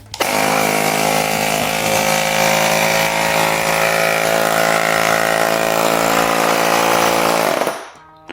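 A YYBAO ST-9632C portable tyre inflator runs with a loud, steady motorized buzz and drone for about seven seconds, then shuts off abruptly.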